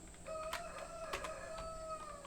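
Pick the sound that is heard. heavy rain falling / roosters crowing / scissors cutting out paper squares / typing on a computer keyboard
roosters crowing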